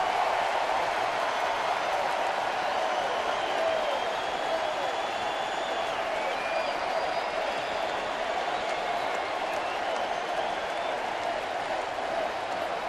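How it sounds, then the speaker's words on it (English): Baseball crowd at Safeco Field in Seattle, Mariners hosting Cleveland, a loud, sustained roar of cheering and applause filling the stadium, with whistles rising above it throughout. "Crowd looking to go to yet another level of ecstasy here at Safeco Field"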